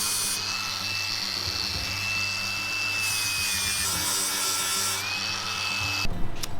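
A sandpaper flap wheel on a power tool grinds against a metal part for a Corvair brake repair, making a steady whirring abrasive drone with a thin high whine, close and continuous before cutting off abruptly at the end.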